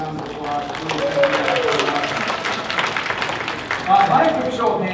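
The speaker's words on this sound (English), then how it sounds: "Can we give them a big round of applause?" Audience at a business talk applauding, a steady wash of many hands clapping that swells slightly near the end, with no speech over it.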